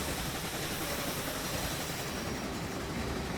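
Continuous rumbling, hissing rail noise of a freight car rolling steadily along the track in Train Simulator Classic, broad and even throughout.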